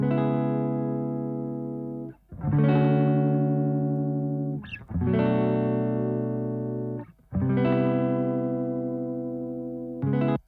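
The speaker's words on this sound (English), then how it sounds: "I've recorded in the guitar chords again. This time I've just strummed them." Strummed guitar chords, four or five separate strums each left ringing and slowly fading before the next, with no talking.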